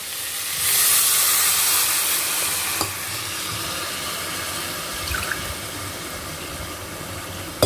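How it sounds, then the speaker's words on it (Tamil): Water poured into a pot of semolina for Tamil-style kitchadi, a steady hissing, bubbling pour that swells near the start, then settles into quieter simmering with a few soft clinks. "இதுக்கு இப்போ 3 கப்பு தண்ணி நம்ம சேர்த்துக்கலாம்."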